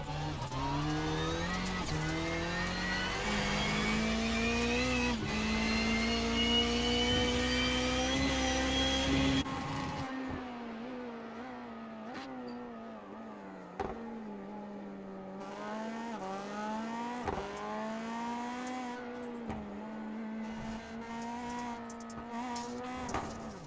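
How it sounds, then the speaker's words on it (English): Onboard a rallycross race car, number 26, leading the race at Daytona: a loud engine rising through the revs, cutting off sharply, then repeatedly climbing and dropping with gear shifts and throttle lifts through corners. "As we'll ride on board the race leader in car number 26"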